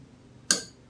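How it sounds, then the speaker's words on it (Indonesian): A single sharp click from the relay of a soft-start module on a power amplifier, brief and crisp, standing out against a quiet background. "itu ada suara klik untuk suara relaynya"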